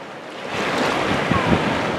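Ocean waves at the beach wash in as a broad, steady hiss of surf that swells slightly after the start, with wind buffeting close to the microphone and no talk.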